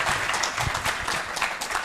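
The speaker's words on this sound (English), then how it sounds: "let us give her one more round of applause" At a sustainable engineering conference, an audience gives an engineer another round of applause, a brief burst of steady clapping filling the room.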